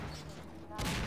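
A missile explodes in the video game Half-Life 2, a sudden heavy boom near the end of a brief moment after a quieter rumbling lead-in.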